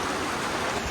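Water rushing hard through the Badlapur barrage dam, a dense, continuous roar of broadband noise, loud and steady with no break and no voices.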